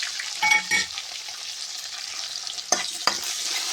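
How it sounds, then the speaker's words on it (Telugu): Chopped onions frying in a pan during a Telangana-style boneless chicken fry, a steady close sizzle broken by a few clattering stirs and spoon knocks, with no talk. "ఆనియన్ ఫ్రై అయ్యే వరకు వేసుకోవాలి"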